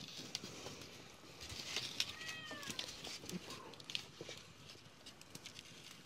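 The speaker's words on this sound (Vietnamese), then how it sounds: "Ở dưới nhà anh thì vẫn có mèo mà." Indoors, a cat gives a couple of soft, drawn-out meows at moderate distance, heard amid faint room noise and light tapping, with no one speaking.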